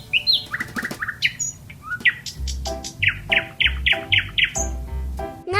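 A nightingale sings alone with a varied run of bright chirps, rapid trills and sweeping whistled notes, clear and close, one phrase after another with brief pauses between them.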